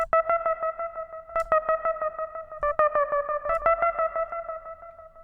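In Ableton, a run of synth notes passes through the Echo effect in mid side mode, so the repeats bounce between the mid and side channels. Dense rhythmic echoes pile up and trail off steadily behind each note.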